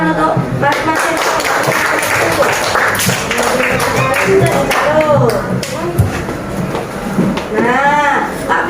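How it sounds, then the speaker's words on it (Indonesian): A classroom audience applauds a student during a lesson on animal breathing organs, a loud wash of clapping mixed with children's raised, excited voices and a teacher talking. "Kita tepuk tangan untuk mas-mas itu."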